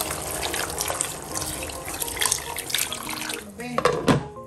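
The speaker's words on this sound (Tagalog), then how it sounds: "Lagyan natin ng tubig." Water is poured from a tap into a cooking pot while making spicy asadong Kapampangan, a steady splashing gush that grows fuller and bubblier near the end, close and fairly loud.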